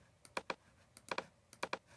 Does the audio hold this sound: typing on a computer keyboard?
yes